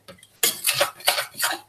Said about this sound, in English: So I add a couple of spoonfuls at a time and I just stir it in.